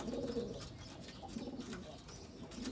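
Sialkoti pigeons coo softly at a pigeon keeper's loft, with low repeated coos blending into faint background bird chatter throughout.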